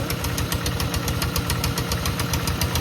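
A small water pump engine runs steadily nearby while a fish pond is pumped out, with a fast, regular knocking chug, loud and continuous throughout with no talking.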